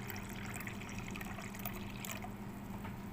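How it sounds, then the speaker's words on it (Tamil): Filtered beetroot juice is poured into a container, a quiet, steady liquid trickle heard faintly and alone for a few seconds. "நான் இப்போ ஃபில்ட்ரு பண்ண ஜூஸை வந்து இதில் ஊற்றி காட்டுறேன்"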